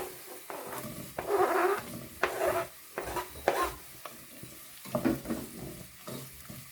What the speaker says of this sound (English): So now I'm just going to add my onions